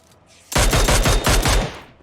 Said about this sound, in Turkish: Burada bir atışlar var ama.